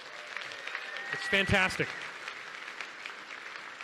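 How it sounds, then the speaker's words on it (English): A crowd claps and cheers in a steady wash of applause while a voice briefly speaks over it. "Give them a big round of applause, everybody."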